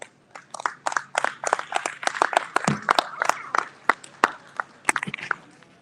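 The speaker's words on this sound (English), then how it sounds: "Let's give them a round of applause." Scattered hand claps from a small audience at a junior dairy cattle show, sparse and uneven rather than a full ovation, fairly close and fading in and out over several seconds.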